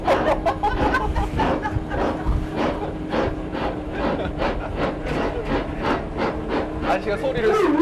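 A passenger train near Pemberton, Western Australia, rolls along with a steady rhythmic clatter of wheels over rail joints, while voices talk and laugh nearby.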